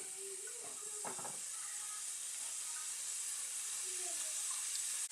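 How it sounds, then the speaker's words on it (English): Pureed onions and garlic fry in oil with a faint, steady hiss and sizzle, broken by a few brief clinks early on; no one talks. "I just added a little bit of oil just to fry up the puree onions and garlic."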